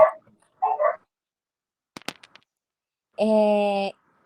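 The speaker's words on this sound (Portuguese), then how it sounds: "Iago, tem muito cachorro latindo aí na sua casa" Dogs in a house give a few short yips and muffled barks, then a longer sustained whine or howl near the end, separated by silence and a couple of faint clicks.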